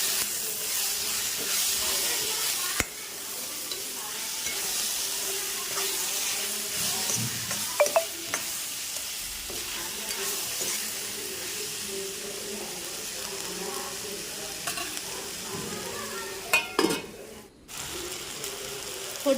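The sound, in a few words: tomato frying and being stirred in a pan for quail curry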